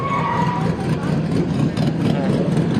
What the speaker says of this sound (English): It's an old hook and ladder truck coming down.